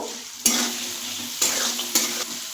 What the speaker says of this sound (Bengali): এবার আমি আলুটা একটু ভেজে নেব